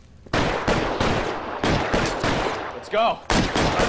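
Sharp, close gunshots crack in rapid irregular succession in L.A. Noire, several loud reports within a few seconds, with a brief spoken line between them.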